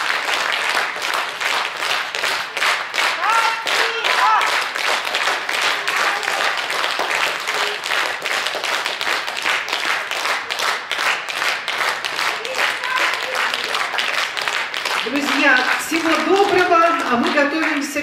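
A concert audience applauds a Russian saxophone quartet, dense sustained clapping filling the hall throughout, loud and close, with a voice speaking over the final seconds.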